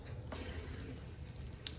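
Water from a garden hose gushes through the radiator of a Nissan Armada or Titan with an overheating fault, a steady rushing splash with a few brief drips, faint and continuous.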